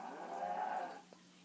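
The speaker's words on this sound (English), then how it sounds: "Cow goes." A cow moos in Minecraft Pocket Edition, one drawn-out, nasal bleating-like call lasting about a second, close and clear, followed by a brief soft tap; no speech.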